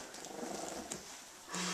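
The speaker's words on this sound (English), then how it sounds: "Who's growling?" A faint, low growl from an 18-day-old puppy rumbles softly and steadily through quiet room noise, becoming slightly louder near the end.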